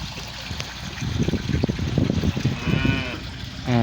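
A large herd of about 600 cows gathers at a farm water tank with an automatic water system, with cattle lowing and shuffling close by over trickling water and a moo near the end.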